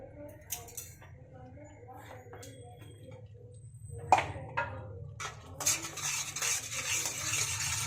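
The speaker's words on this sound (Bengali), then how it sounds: "যতক্ষণ না আবার ভালোভাবে তেল ছেড়ে দিচ্ছি, এটাকে আমি ভালো করে কষাবো" Broccoli gravy being stirred and sautéed in a pan, quiet scraping and utensil clinks at first, then a louder sizzle with sharp metallic taps building toward the end over a low steady hum.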